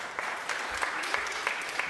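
Audience applause in a county Board of Supervisors meeting chamber after a public speaker finishes, a steady moderate wash of clapping with a few sharper individual claps, fairly distant and with no talk over it.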